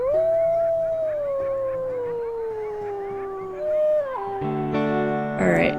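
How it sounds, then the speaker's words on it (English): A wolf howls in a video game, one long sustained howl sliding slowly downward, then a shorter rising howl and a few yipping notes, loud and close with no talk. "let's go ahead and let's howl right here."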